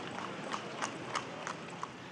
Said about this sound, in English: They also turned to horse-drawn carts